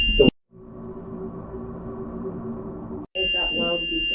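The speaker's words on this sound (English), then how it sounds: "Is that loud beeping?" A REM pod ghost-hunting device emits a loud, steady electronic beeping tone that runs for several seconds, cut off abruptly, with voices briefly heard around it.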